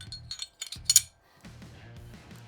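A Glock pistol's barrel goes back into the slide during reassembly, with a few light metallic clinks and taps close up, then a brief quiet and soft handling rattles.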